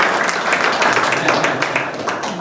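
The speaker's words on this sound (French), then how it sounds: "On peut applaudir Bernadette." An audience in a church setting claps for a woman called Bernadette, a fairly loud, close burst of many hands with scattered individual claps that thin out slightly toward the end.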